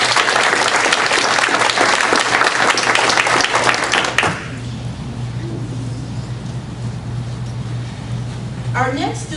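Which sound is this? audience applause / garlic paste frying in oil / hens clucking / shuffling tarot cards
audience applause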